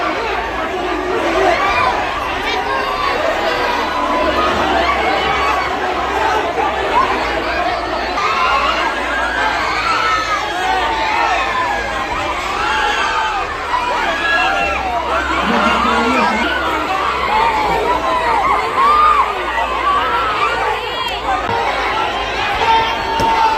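Crowd gathered after police arrived at a murder scene in Baghpat, a dense, steady hubbub of many overlapping voices talking and calling out, close and continuous throughout.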